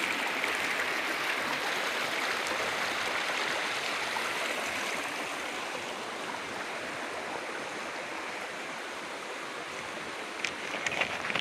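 Flowing water at a waterfall makes a constant broad rushing wash, steady and fairly close, with no voices over it.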